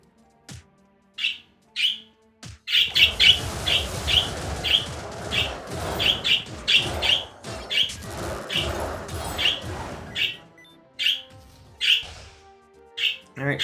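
Excited birds in the video game Wizard of Legend chirp and squawk in rapid bursts over a low rumbling backdrop, with sharp high calls repeating and a few isolated chirps at the start and end.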